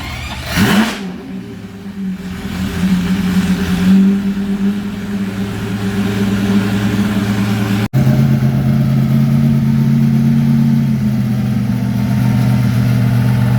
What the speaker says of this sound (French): Ce moteur Lamborghini.